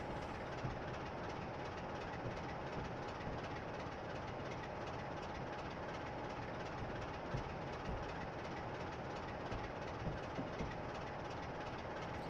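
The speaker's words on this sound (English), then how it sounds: "So we're going to move our whole train into this head shunt area." A freight train rolling steadily in a train simulator game on the York–Peterborough line, a continuous broadband rumble with faint regular wheel clicks, fairly quiet and with no voices.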